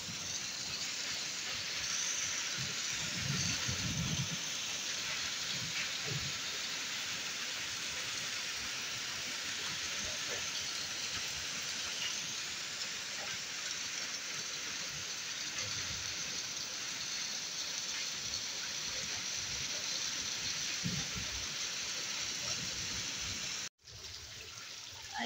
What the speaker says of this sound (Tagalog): Kaya ito umulan na naman ng hailstorm o kaya snow.